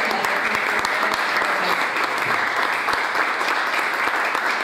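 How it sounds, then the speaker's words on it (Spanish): Audience applause at a ceremony honouring young athletes, a steady dense wash of clapping at moderate loudness with some sharper individual claps throughout. "también le mandamos un fuerte aplauso a Natalia y la esperamos."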